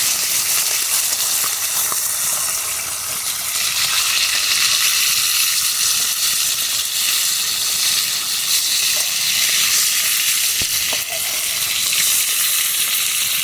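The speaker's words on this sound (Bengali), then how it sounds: "এইভাবে মাছগুলো লাল করে ভেজে নেব" Fish pieces frying in hot oil in a kadai until reddish, a continuous close, loud sizzle with bubbling crackle and occasional stirring clinks.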